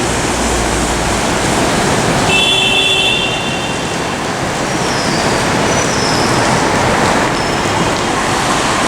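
Fast train to Shanghai at platform 7, heard as a steady, loud rumble of rolling stock with a brief high metallic squeal from the wheels partway through, continuous throughout.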